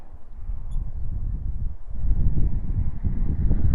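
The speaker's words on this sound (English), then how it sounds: "Wind's picking up a little bit" Wind gusting by a river while pike fishing, a low steady rumble of buffeting air that strengthens partway through, with no voices.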